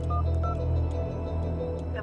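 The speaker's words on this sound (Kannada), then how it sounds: "ಶ್ಯಾಮಗ್ ಫೋನ್ ಮಾಡು" A phone number is tapped in on a handset, short electronic keypad tones sounding several times in quick succession over a low hum, close and fairly quiet.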